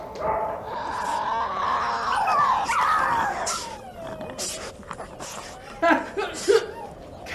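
A dog barks, yips and whimpers in excited, uneven bursts, with higher whining cries rising over a rough, noisy background and a few sharp clattering sounds near the end.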